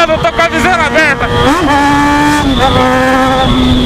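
A Yamaha XJ6 motorcycle engine roars and revs hard during a street race against a Camaro, its pitch climbing and falling in loud sweeps, with a rider talking over it.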